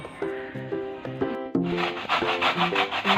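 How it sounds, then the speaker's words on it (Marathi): Fresh coconut pieces scraped against a hand grater in rhythmic rasping strokes, close and fairly loud, speeding into quicker, denser scraping partway through. "हे तुकडे ना नारळाचे आता मी खिसून घेणार आहे"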